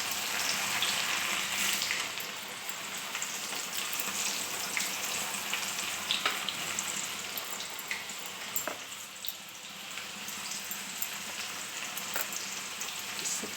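Chanachur snack mix fries in hot oil with a steady, bright sizzle, broken by occasional crackles and pops as the pieces are stirred, no voices over it.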